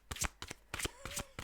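Tarot cards being shuffled in short crisp bursts, several quick riffling snaps close up with brief pauses between them, a faint tone hanging under the later ones.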